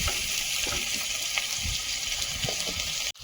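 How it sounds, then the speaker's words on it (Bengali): Spices, chopped chilli, onion, salt, turmeric and chilli powder, sizzling in a pan while frying with fish, a steady close hiss with scattered stirring scrapes and a brief break near the end. "ভালোভাবে সব মশলা কষিয়ে নেব"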